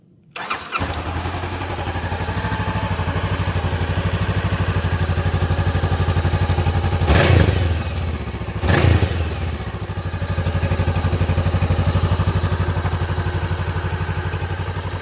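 A Honda CBR500R motorcycle engine starts with a brief clatter, settles into a steady idle, then revs twice in quick bursts before returning to idle.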